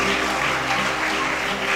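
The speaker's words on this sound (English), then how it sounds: "Please let's give her a round of applause." Audience applause at a university symposium, a steady dense wash of clapping held at an even level for the whole short stretch, with no voices over it.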